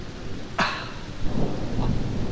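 Rain falls steadily and one sharp, fairly close thunder crack sounds early, followed by a fainter rumble under the rain.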